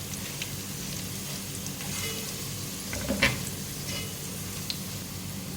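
Whole spices (black peppercorns, cumin seeds, cloves and a cinnamon piece) frying with onions in a pan, giving a steady close sizzle with occasional louder crackles and pops.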